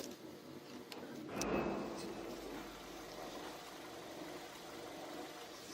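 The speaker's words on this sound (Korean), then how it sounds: "이 정도의 엔진 소음 만나보실 수가 있습니다" A Hyundai Avante HD hybrid engine idles with the hood closed, a low, steady hum after a brief clunk near the start, muffled and even throughout with no talking.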